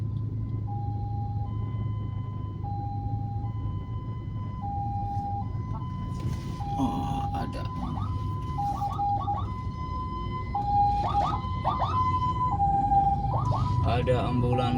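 An ambulance siren wails through heavy Jakarta traffic on Jalan Gatot Subroto, a repeating two-tone call that grows louder and more urgent near the end over a low engine rumble, with a brief spoken exclamation.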